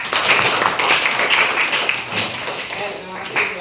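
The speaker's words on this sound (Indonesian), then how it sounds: "mari kita beri tepuk tangan kepada kelompok 1" A small group in a classroom practicum session claps for a presenting group. The clapping is brisk and close, with some voices mixed in, and it thins out toward the end.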